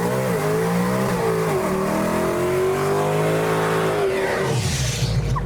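A modified Mustang revving for a burnout, the engine holding a loud, steady high-rpm roar with shifting pitch before a sudden burst of tire squeal near the end, close up with no talk.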